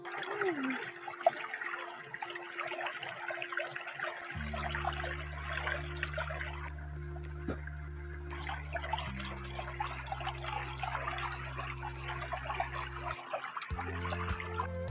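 A flooded, milky stream in rural Mindanao, used for washing freshly dug sweet potatoes, rushes and trickles steadily throughout, with a sustained tonal musical drone underneath.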